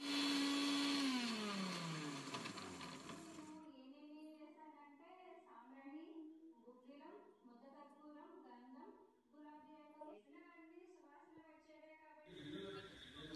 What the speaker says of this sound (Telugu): మిక్సీకి వేస్తున్నా.